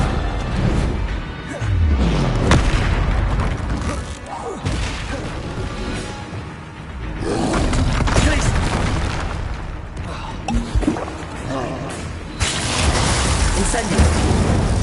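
Explosive spells from Hogwarts Legacy, Confringo and Bombarda, hit with a series of heavy booming blasts and crashes, several loud impacts spread across the scene, mixed with spoken incantations and game effects.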